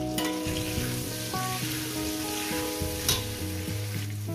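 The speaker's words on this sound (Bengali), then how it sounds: "সামান্য পরিমাণে হলুদ দেবো, দিয়ে এটাকে আমি 5 মিনিট ধরে ভেজে নেব।" Potatoes frying with turmeric in a pan, a constant crackling sizzle under sustained steady background music tones, with a brief clatter near the end.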